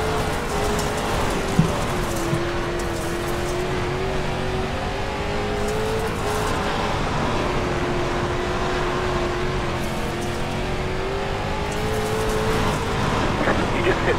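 Dirt late model race cars roar steadily in the iRacing video game at Limaland, a continuous engine drone with a sustained tone and no clear pauses.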